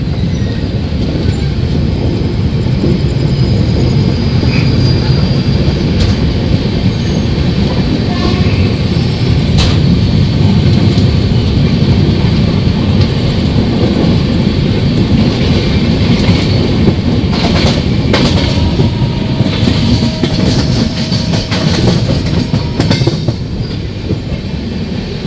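The down Hazarduari Express from Lalgola to Kolkata rolls into platform 4, a loud continuous rumble of wheels and carriages with rhythmic clatter and occasional squeals, heard from close by on a moving train.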